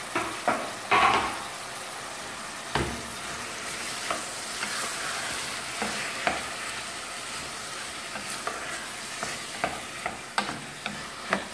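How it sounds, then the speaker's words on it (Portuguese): Chopped tomatoes, four of them, sizzle and fry in a pan for a shrimp risotto sauce, with a steady crackle broken by several sharp scraping stirs of a utensil against the pan; no one speaks. "E refoga bem também,"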